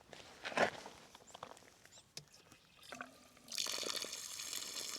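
Clear water from a trail water source on the Pacific Crest Trail. Close footsteps are followed partway through by a steady, bright rush of flowing water that continues to the end.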